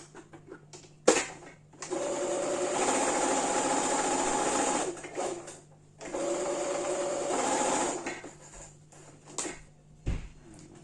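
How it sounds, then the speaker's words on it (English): A sewing machine stitches jumpsuit fabric together in two sustained runs of rapid whirring, separated by a pause, with a few clicks and handling noises around them. "So I'm just going to sew it together like that."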